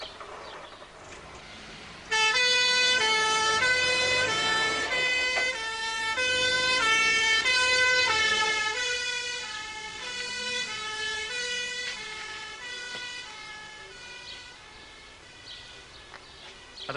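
An ambulance siren wails in a repeating two-tone pattern, loud and close, over a low rumble of traffic, continuing without break.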